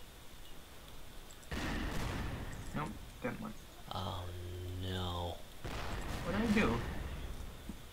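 Several booming ship cannon shots and bursts from the game Pirate Ship Wars, mixed with brief synthetic tones and clatter, with a person talking over parts of it.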